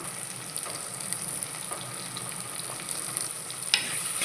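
Onions with salt sauté in a pan for a shrimp and bottle gourd curry, giving a continuous close sizzle with occasional stirring scrapes and no talk.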